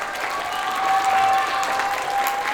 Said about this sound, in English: give the blue group another round of applause